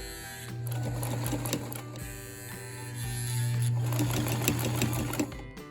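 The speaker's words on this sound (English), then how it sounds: "So now we're going to sew these pieces in the middle to make it all go together." Sewing machine stitching together fabric panels of a lyra bag for an aerial hoop, a steady close whirring hum that runs almost the whole time with a brief slowdown, no talking.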